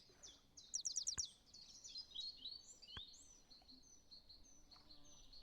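Birdsong in the board game Wingspan's digital version, a quick burst of bright repeated chirps followed by softer trills and tweets over a faint background, with a couple of sharp clicks.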